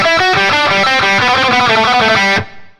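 Rapid tremolo picking on an electric guitar in the Bocchi the Rock style, with dense, driven notes pouring out in a fast steady stream before stopping abruptly into a short ringing tail.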